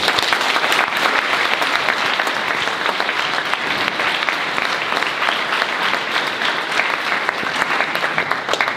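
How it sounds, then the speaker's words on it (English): An audience at a school speech day and senior awards ceremony applauds steadily and loudly, with dense, even clapping sustained throughout and no break. "Please give these boys a big round of applause."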